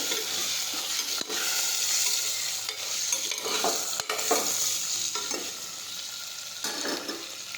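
Pointed gourd (parwal) curry hisses steadily in a pan while a spoon stirs it, giving a few sharp scraping knocks and softer shuffles over the close, constant sizzle.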